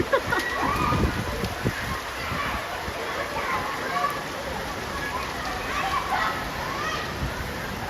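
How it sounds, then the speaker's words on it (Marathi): Heavy May rain pouring down, a dense steady hiss with scattered drops on surfaces, continuous for several seconds while children's voices and talk sound faintly underneath. "मे महिन्यात पाऊस चालू झाला"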